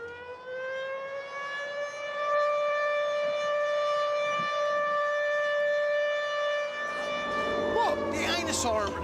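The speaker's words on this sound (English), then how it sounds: "Air raid sirens were only removed from British towns 20 years ago." A loud air raid siren holds a long, steady wail that begins to fall in pitch and break up toward the end.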